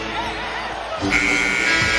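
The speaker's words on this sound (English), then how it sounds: "And it is to beat the buzzer in the 3rd quarter." A basketball arena buzzer sounds at the end of the third quarter as a made three-pointer beats the clock, a sustained tone rising out of steady crowd noise in the second half.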